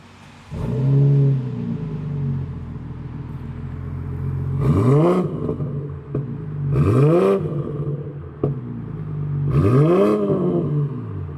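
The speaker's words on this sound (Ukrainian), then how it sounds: "послухаєте, як звучить вихлоп на цьому автомобілі з штатними каталізаторами." BMW G30 540 with B58 engine and stock catalytic converters: exhaust starts to a steady idle, then three deep revs rise and fall, recorded outside near the car.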